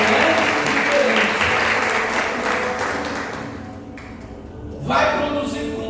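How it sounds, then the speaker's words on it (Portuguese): A church congregation claps together in loud, sustained applause that gradually thins and fades, ending with a brief final burst of noise. "dá uma oferta de palmas ao Senhor"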